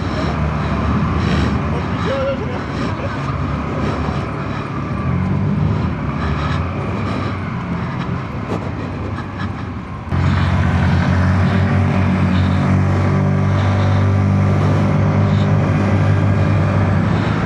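A Hero Xoom 125 scooter with a 125cc engine is ridden on the road, its engine hum and rushing wind noise steady and close, growing louder and fuller partway through as speed picks up.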